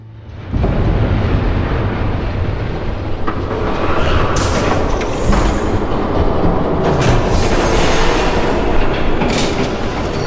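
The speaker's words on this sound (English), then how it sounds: "There's a train coming." Train in a Batman video game rushing in after a brief quiet opening, a loud, dense rolling roar with rattling and hissing that stays close and continuous throughout.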